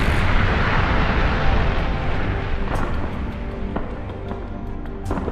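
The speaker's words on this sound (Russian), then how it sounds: "Оставляя взрывы за спиной" Explosions in a video game rumble loud and continuous throughout, with a dense roaring blast texture and a few sharp crackling bursts toward the end.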